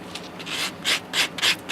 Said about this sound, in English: now you just detail it with sanding